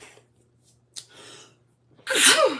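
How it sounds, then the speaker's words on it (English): A loud single sneeze at the end, preceded by a couple of sharp inhaling gasps, close to the listener in a quiet room. "I've been sneezing all morning"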